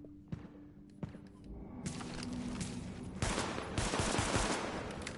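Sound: AK rifle gunfire in a video game

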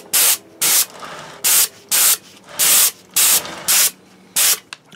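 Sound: spraying glossy coats onto a movie prop

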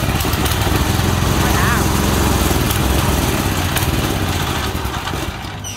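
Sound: 6.5HP gasoline engine running after pull start

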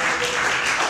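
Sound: audience applause at live show

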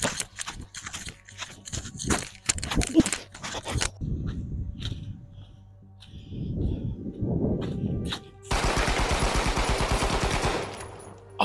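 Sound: machine gun fire in the video game Manhunt

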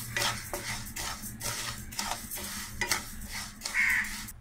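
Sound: stirring rice while dry-roasting in a pan

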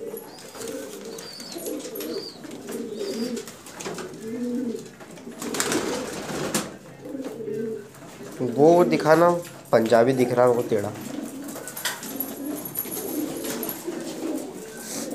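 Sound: pigeons cooing

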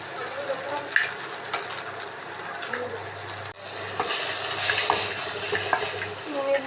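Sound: garlic frying in a pan for garlic sauce pasta

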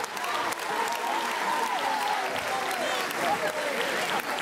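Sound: audience applause

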